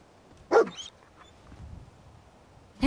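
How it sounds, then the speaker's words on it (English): A dog barks in the video game Fallout 4, one sharp close bark followed by softer yips and a second bark at the end, heard alone without talk. "Now we got a dog here."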